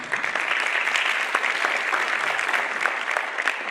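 Dense, steady audience applause at a conference, a continuous wash of many hands clapping at even loudness from start to finish, no talk over it.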